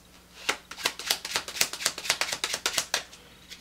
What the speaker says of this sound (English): And we'll shuffle the deck like so.